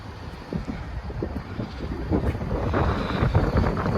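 Strong wind buffets the microphone in rough, rumbling gusts that build louder toward the end, with no talking.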